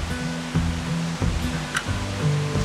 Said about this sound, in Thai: เราได้ยินเสียงน้ำตกค่อนข้างแรงเลยนะ